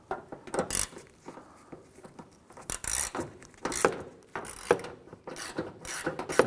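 A socket wrench with an extension ratchets a bolt snug on a 1993-1997 Ford Ranger header panel, giving several close bursts of rapid clicking separated by short pauses.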